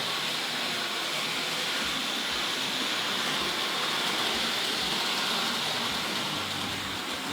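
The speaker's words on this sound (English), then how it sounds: "let's see if we can catch the little tank loco coming round with those tin plate coaches" A small model tank locomotive pulling tinplate coaches around a Tri-ang or Hornby Dublo layout gives a continuous rolling rumble with faint repeated rail-joint clicks, moderately loud and unbroken.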